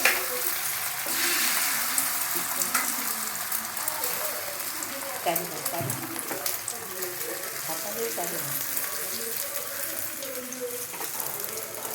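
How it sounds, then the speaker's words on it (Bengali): Egg frying in oil on a tawa griddle, a steady close hiss and crackle of sizzling with small pops, while someone talks over it. "দেখো এবার আমি একটা তাওয়াতে তেল দিয়ে দিয়েছি, দিয়ে ডিমটা দিয়ে দেবো।"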